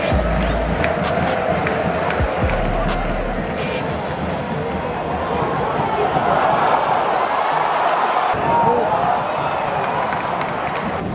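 A large World Cup soccer stadium crowd roars and cheers steadily throughout, a dense wash of voices with brief whistles and shouts rising from it.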